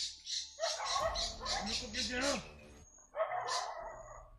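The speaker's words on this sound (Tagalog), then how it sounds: "At nagsama pa po sila ng mga aso." Several sharp dog barks ring out close by on a mountain path, mixed with someone talking over them, followed by another bark after a short pause.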